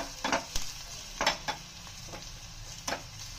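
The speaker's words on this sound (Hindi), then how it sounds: "अब मैं डाल रही हूँ थोड़ा सा मिर्ची पाउडर और इसको अब मिक्स कर लेंगे" Garlic and chili powder tadka being stirred in a pan on a just-switched-off gas flame, with a soft steady sizzle broken by several sharp scraping clinks of the spoon against the pan.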